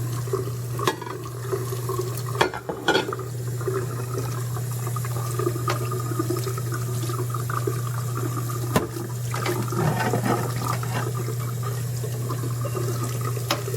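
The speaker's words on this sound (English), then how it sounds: "Get all the extra food that's still stuck on there rinsed off" Food is rinsed off dishes under a steady stream of running water at a kitchen sink. The water makes a continuous, close hiss, with occasional soft clatters of dishes being handled.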